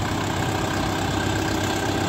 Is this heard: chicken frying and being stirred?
no